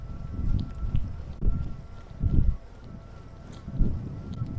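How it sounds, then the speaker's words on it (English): Wind gusting against the microphone on a hilltop during a March e-bike climb, with low rumbling buffets in several bursts and quieter stretches between them. "Sorry, it's kind of windy."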